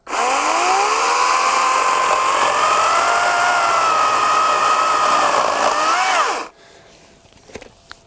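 A Wild Badger 40-volt cordless chainsaw cuts steadily for about six seconds with a loud, high whine that sags slightly under load, then cuts off abruptly, followed by quiet clatter.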